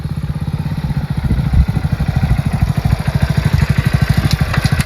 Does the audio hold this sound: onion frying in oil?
no